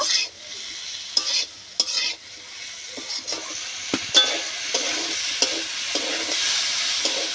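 Lentils (dal) fry and sizzle in a pan while being stirred, with a steady close hiss broken by several sharp scraping clicks of the spoon against the pan.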